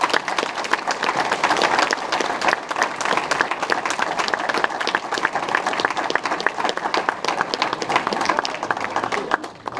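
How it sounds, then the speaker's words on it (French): A crowd applauds steadily at a prize-giving ceremony for a treasure-map game in Vienne, dense clapping filling the room at an even level without pause. "merci d'applaudir, Roselyne Gossel."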